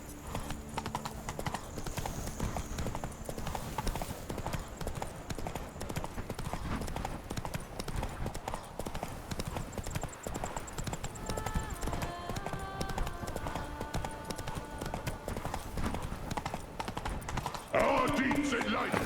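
Hoofbeats of a galloping horse in The Witcher 3: Wild Hunt – Blood and Wine, a continuous rhythmic clip-clop under game music and voices, with a brief neigh-like burst near the end.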